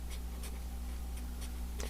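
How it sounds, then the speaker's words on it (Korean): Marker or chalk writing on a board, a few short scratchy strokes spaced out over steady low room hum, with no voice. "요 정도에다가 써볼게요."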